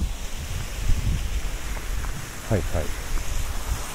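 A small, low-volume river flows outdoors near a temple, giving a steady broadband water rush with wind-like texture; people talk briefly over it.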